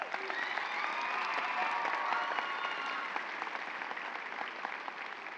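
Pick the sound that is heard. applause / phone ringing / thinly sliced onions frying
applause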